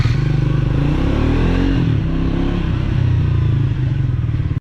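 A Triumph Speed 400 motorcycle engine idling close by, a loud steady low rumble with a slight rise and fall, heard alone.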